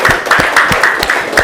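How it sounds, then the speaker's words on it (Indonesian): Classroom applause from a group of students, a short burst of rhythmic clapping with a steady beat, close and fairly loud, with no talking over it. "tepuk tangan untuk Mbak Sasi semuanya"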